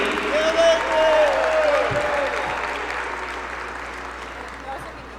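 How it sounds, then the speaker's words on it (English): Crowd applause for a senior at a college sports senior-day ceremony, a broad wash of clapping with some faint voices and an announcer-like tone early on, gradually fading over several seconds. "Ladies and gentlemen, a big round of applause for senior Courtney Layton."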